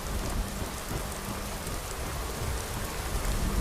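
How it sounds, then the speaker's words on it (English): Steady rain falling in the video game Skyrim at Valfheim Keep, a continuous even hiss with low rumbling underneath, moderately quiet and with no voices. "It has started to rain."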